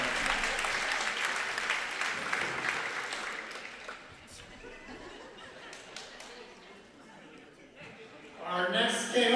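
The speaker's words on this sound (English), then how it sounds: "Let's give a round of applause for Jack Dyson." Sustained applause from a crowd at a volleyball event fills the first few seconds, then fades into quieter scattered clapping before a voice begins speaking.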